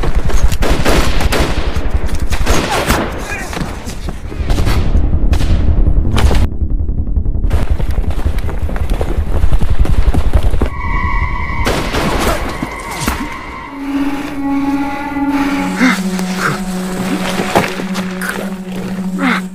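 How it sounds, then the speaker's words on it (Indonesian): Gunfire from a war film battle between Japanese troops and defenders, with dense, continuous loud shots and bursts, heavy impacts, then sustained tonal music layered over the fighting. "Dan Byonggu pun berhasil mengenai penembak jitu musuh, tetapi musuh juga berhasil menembak Zhang He."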